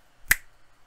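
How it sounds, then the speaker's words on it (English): A single sharp finger snap, close and crisp, recorded on a budget lavalier mic during a sound test, with near silence around it. "We'll do some snaps."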